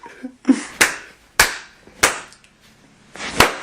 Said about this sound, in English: That clap was lame.